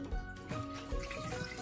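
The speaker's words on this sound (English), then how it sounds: "once you do this part right here, you just drain that water" Water pours and splashes as it is drained from chicken wings left soaking with limes, a short close burst of trickling liquid with no talking.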